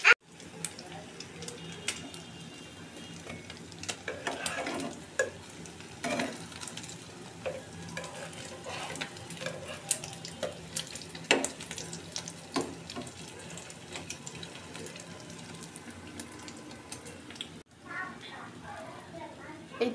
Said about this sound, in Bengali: এই তো ভাজা প্রায় হয়ে গিয়েছে